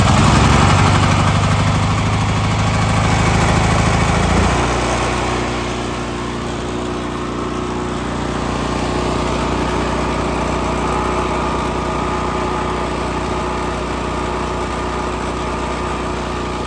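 A Generac 5500 generator runs after a warm start with fresh oil, its engine roaring loudly and steadily up close, the pitch dropping and settling around four seconds in before holding an even drone.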